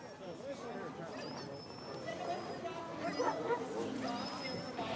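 A team of sled dogs in the Yukon barks and yips in scattered bursts at a moderate distance, with some whimpering, while a voice talks over them.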